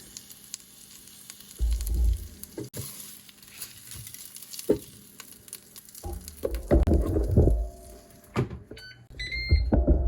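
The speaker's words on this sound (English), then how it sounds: "We're going to go ahead and flip that steak." A steak sizzles steadily in a Ninja Speedi cooker after being flipped, with a close crackling hiss that swells in louder bursts and ends with a few electronic beeps.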